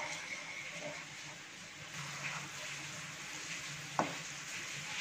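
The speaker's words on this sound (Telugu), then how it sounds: "ఇది ఇప్పుడు మరగొచ్చేస్తుంది కదా, తెరలు వచ్చేస్తుంది" Okra buttermilk curry made with curd, simmering on low heat as it comes to a boil: a soft, steady bubbling hiss with one brief utensil clink near the end.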